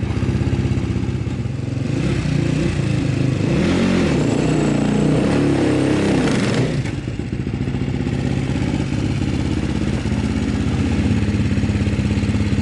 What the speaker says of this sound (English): here's Lyndon riding Sheila up this hill.